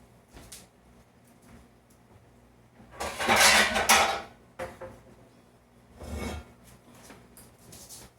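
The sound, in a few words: pot being moved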